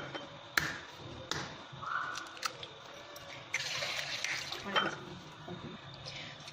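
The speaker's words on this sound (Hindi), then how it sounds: "और इसमें अंडे तोड़ दूंगी।" Eggs cracked against and dropped into a bowl while making Saudi-style mutabbaq filling: a few sharp clicks and taps on the bowl among soft stirring and utensil clatter in a quiet kitchen.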